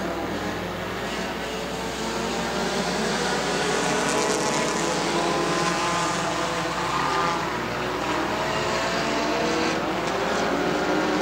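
Street Stinger race cars at Rome Speedway, a steady loud roar of engines circling the oval, continuous and busy with no pauses, no voices.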